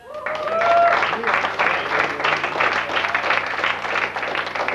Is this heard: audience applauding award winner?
yes